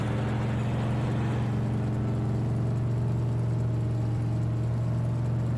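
Cars drive along a busy town road in Farming Simulator 19 on the County Line map, a steady loud engine whir and low hum that carries without pause, with no talking.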